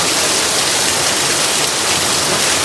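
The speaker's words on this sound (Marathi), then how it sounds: "आता धबधबा बघितला का तिथे" A waterfall pours in a continuous, loud, broadband rush of falling water, steady and close, with no other sounds.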